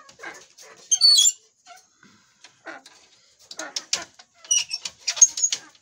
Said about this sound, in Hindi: आप देखें ये शीशनाग और ना शेरू क्या शोर शराबा कर रहे हैं